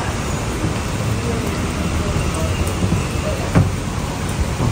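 Steady rain falls at night outside a hotel lobby in Baguio, a dense, continuous wash with a brief louder knock partway through and no speech.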